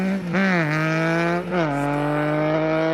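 A Triumph Speed Triple motorcycle engine revving close by, a deep, cavernous growl rising and dipping in pitch as the throttle is blipped.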